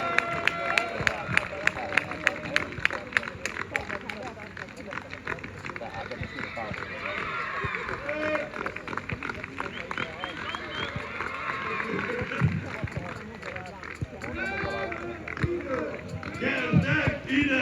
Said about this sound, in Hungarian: Nagy tapsot még egyszer a hédervári utánpótlásnak!